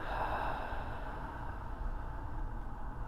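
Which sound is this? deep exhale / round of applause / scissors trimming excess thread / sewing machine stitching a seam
deep exhale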